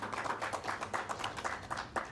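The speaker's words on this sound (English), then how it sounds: "A round of applause to Salima" A small conference audience gives a brief round of applause, a few distinct hands clapping in a loose, uneven rhythm, fairly faint and close.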